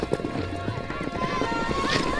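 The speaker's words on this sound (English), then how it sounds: "Outside, we watch the kids round up some of their horses." Horses being rounded up by children on the open range, with hooves clip-clopping and moving about at a moderate distance under steady outdoor background noise, while voices talk over the activity.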